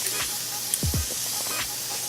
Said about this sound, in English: So now I'm just going in with the Morphe Prep and Set Makeup Setting Spray that just came out.